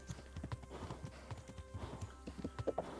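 Horse hooves clip-clopping in the video game Kingdom Come: Deliverance, a steady, rapid rhythmic patter of hoofbeats at moderate volume over a low background hum.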